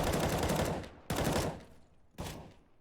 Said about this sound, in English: It's just pistols. The upgraded pistols.